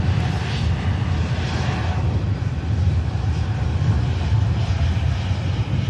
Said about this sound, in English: Next aircraft in is the Malaga inbound of EasyJet.